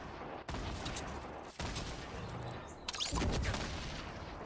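Gunfire in the Fortnite video game crackles in dense, overlapping bursts with sharp reports and short gaps, loud and close throughout, heaviest and most chaotic toward the end.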